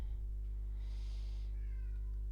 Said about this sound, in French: le chat, il fait des miaou